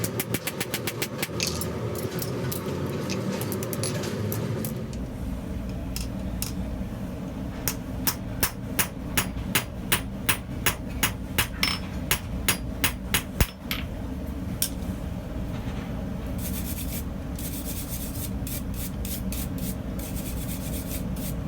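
A blacksmith strikes a round flatter while forging tongs, sharp metallic hammer blows ringing out in a steady series of evenly spaced hits over a constant background roar.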